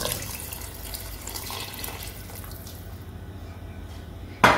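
Boiled water pours steadily into a cooking pot for mutton paya, a continuous close splashing stream that ends with a sharp clink at the end.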